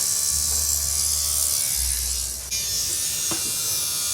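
Andis AGR hair clippers run with the blade removed, giving a steady, loud electric buzz up close with a low hum that shifts slightly partway through.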